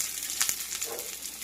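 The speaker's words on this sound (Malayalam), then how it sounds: "അപ്പോൾ കടുക് പൊട്ടിയിട്ട് അതിലേക്ക് ചുവന്നുള്ളി ഇടാണ്." Red shallots sizzling in hot oil with mustard seeds, a soft steady hiss heard up close for a moment with a faint clink partway through.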